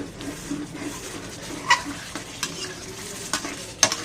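Canned fish stir-fried with holy basil and fish sauce in a pan, a close steady sizzle with scraping stir strokes and occasional sharp metallic clicks of a spatula.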